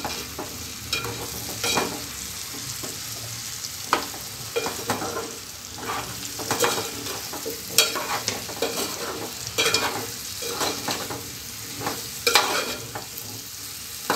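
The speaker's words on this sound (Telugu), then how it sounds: "ఒక్కసారి కలుపుకుందాము." Chopped brinjal and chana dal curry being stirred in a pan, with a spoon scraping and clacking steadily at close range over a soft sizzle, no voices.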